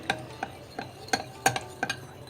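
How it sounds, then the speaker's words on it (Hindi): A spoon stirs sodium benzoate into sauce in a bowl, giving six distinct clinking scrapes against the sides at a slow, uneven rhythm, close and fairly quiet. "सोडियम बेंजोएट को अच्छी तरह से मिक्स करेंगे"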